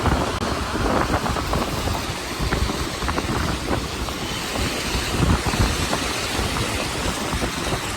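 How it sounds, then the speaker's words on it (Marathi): Continuous heavy monsoon rain with gusty wind buffeting the microphone, a dense roaring wash of noise throughout, on the way to a waterfall near Badlapur. "आजचं वातावरण पूर्ण पावसाचं आहे पूर्ण सगळीकडे पाऊस पाऊस"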